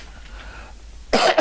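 After a stretch of quiet room tone, a woman in a dry indoor room lets out one sudden, loud, harsh cough near the end.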